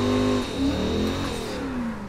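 A car engine in a driving video game, a Nissan S14-style sound, revs and shifts through rising and falling tones at a moderate, steady level with no voices.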